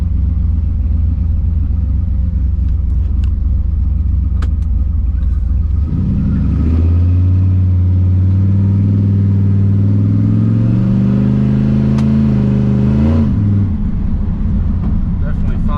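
A 1979 Ford F100 pickup with a 408 stroker engine and stock automatic transmission drives along, its low engine rumble climbing steadily in pitch as it accelerates through the gears, loud and close from inside the cab.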